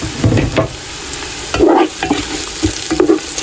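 Onions frying and being stirred in a pan for Sylheti akhni biriyani, a steady close sizzle broken by repeated scraping stirs, with no talking.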